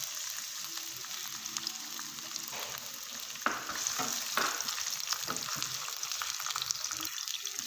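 Chopped onion fries in oil in a pan with a steady, soft sizzle and occasional stirring scrapes, close but fairly quiet, no talking.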